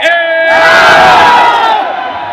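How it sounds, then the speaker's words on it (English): A crowd at the Crown Mall in Jabal Ali roaring and cheering for cricketer KL Rahul, a loud massed shout swelling and holding for a couple of seconds. "Please give a big round of applause to KL Rahul."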